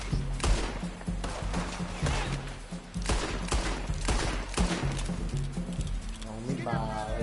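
Rapid bursts of gunfire in the online mode of Red Dead Redemption 2, loud cracks repeating in quick clusters, with someone talking excitedly over the shooting.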